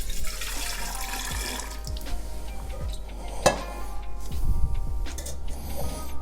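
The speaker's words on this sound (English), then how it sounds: "take a little bit of the brine, wash it around in there" Brine for hot sauce is swished around inside a container, giving a continuous wet sloshing with small clinks against the vessel, close and moderate in level, with no voices.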